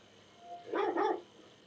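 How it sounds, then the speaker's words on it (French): A dog barks twice in quick succession within the video game The Last of Us Part II, moderately loud above a low ambient game background, with no speech. "Ouais, le chien. Est-ce qu'on peut le caresser le chien?"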